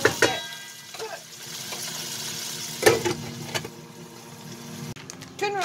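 Broccoli florets cook in a pan with a soft, steady sizzle and a low hum. Intermittent clatter and stirring knocks cut through, with a sharper clank near the end.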